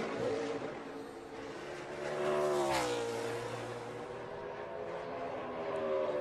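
A NASCAR Cup Series race car laps during pole qualifying, engine note rising and holding as it passes, loud then easing off, with no voices over it.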